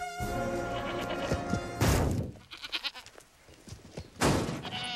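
Billy goat bleating in a televised ad, a long wavering bleat followed by sharp crashing thumps and a second loud burst, close and prominent.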